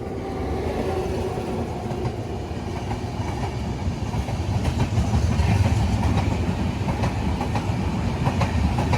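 A train rumbles past steadily on the Mangaluru–Udhna special route, with rhythmic clacking of wheels over rail joints growing slightly louder toward the end.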